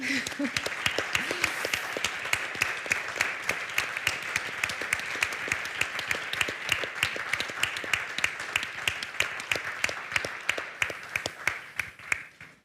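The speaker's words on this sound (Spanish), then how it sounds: "Vamos a darle un aplauso, por favor." An audience applauds steadily for several seconds, dense clapping that holds even and then thins out toward the end.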